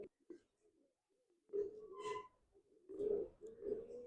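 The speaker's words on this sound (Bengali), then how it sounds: "কিছু পায়রা সেল দেখাচ্ছি, এই যে।" Pigeons kept for sale give soft, low cooing calls in two short bouts, faint and near, with quiet pauses between them.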